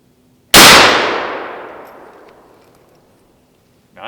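A single loud, close blast from a black powder Smith carbine, with a long booming tail fading over about three seconds before a faint new sound starts at the end.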